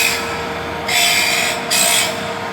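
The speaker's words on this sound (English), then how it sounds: "you're sharpening the back section and the front section" A Vollmer sharpening machine works a blade with a continuous harsh grinding hiss that swells louder twice in short surges, close and without voices.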